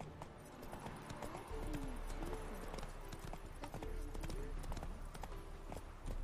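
Hooves of the horse Roach pound in a fast, rhythmic clip-clop gallop in The Witcher 3, steady and fairly quiet, with occasional soft game sounds alongside.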